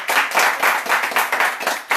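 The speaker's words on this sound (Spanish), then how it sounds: "les regalamos nuestras canciones y un aplauso para ellos" Brief round of rhythmic clapping at a live music gathering with artists and a small audience, close and fairly loud, with a few hands beating in a quick, uneven pulse.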